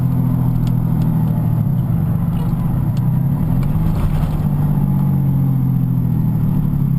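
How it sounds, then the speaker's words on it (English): A 6.2 liter Cummins diesel engine with its exhaust brake engaged gives a steady, loud, low droning rumble that holds evenly throughout, with slight shifts in pitch as the truck slows. "activate the exhaust brake"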